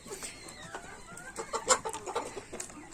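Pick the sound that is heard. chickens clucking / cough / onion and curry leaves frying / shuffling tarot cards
chickens clucking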